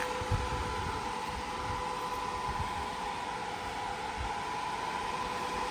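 Radiator cooling fans of a turbo LS Camaro with cooling issues run with a steady, loud mechanical whir and a constant tonal hum, unbroken throughout with no voices.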